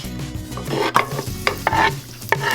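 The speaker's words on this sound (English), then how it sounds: "I'm gonna start with 2 tablespoons of olive oil over medium heat. Then I'm gonna add in my garlic." Garlic hitting two tablespoons of olive oil over medium heat in a pan: a loud close sizzle and bubbling frying hiss, broken by a few sharp stirring clatters, with no talk.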